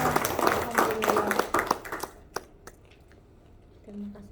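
An audience at a beauty and health workshop claps for its partners with quick, scattered claps mixed with voices, then the clapping thins into a few taps before a voice returns.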